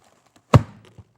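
A homemade air cannon fires once when pulled, giving a single sharp, close thump with a short fading tail and a lighter knock just after.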